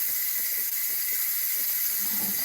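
Steady hiss of steam escaping from an electric pressure canner processing jars of chicken in a home kitchen, a continuous airy wash heard alone at moderate level with faint low clicks underneath.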